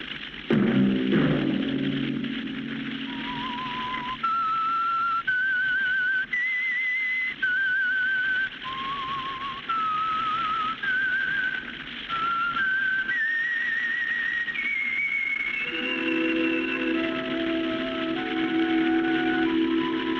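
The whistled theme of the 1952 radio program The Whistler: clear, sustained notes stepping up and down, then a lower line joins near the end over a steady faint hum.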